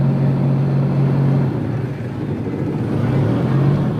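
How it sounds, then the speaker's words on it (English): A boat engine on a river cruise drones steadily, a low continuous rumble with a constant hum that dips briefly midway, fairly loud and close, with no voices over it. "How's the noise from the engine? Is it alright?"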